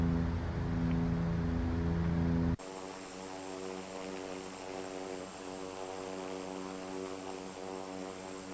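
Turboprop engines of a Bombardier Dash 8 in the Infinite Flight simulator: a steady propeller drone with a strong tonal buzz, which drops suddenly in level and changes to a quieter, smoother engine hum that holds steady.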